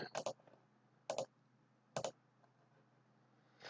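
Mouse clicks on a computer during website editing, with three sharp paired clicks spaced about a second apart, close and fairly quiet, over a faint steady hum.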